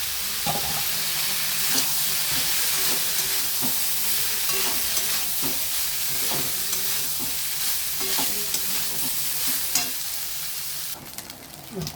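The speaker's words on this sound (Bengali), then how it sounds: "ভাতটা ভাজা হয়ে গেছে" Leftover rice is stir-fried in a pan: a continuous sizzle runs under repeated scraping and tapping strokes of a spatula, fairly close and steady, with a brief clatter at the very end.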